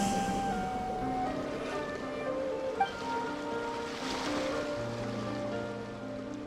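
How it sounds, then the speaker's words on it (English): Ocean waves wash steadily in the video game Genshin Impact, a soft continuous surf at moderate distance, blended with gentle sustained background music tones. "Go to where you can hear the sound of the waves."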